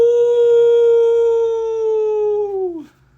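A person imitates a wolf with a long, loud, sustained howl held steady for nearly three seconds, then sliding down and breaking off abruptly, with no other voices around it.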